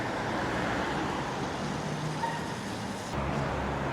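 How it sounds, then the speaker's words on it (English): Steady road traffic in a UK market town, a continuous close rumble of passing cars and heavier vehicles with no clear pauses or voices. "There's plenty of traffic coming and going"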